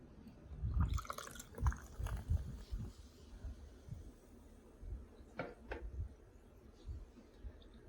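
Carbonated liquid poured into a glass holding raisins, with a run of splashy, bubbling pours and drips close by. Two clearer trickles come near the end, and a little faint background murmur is heard.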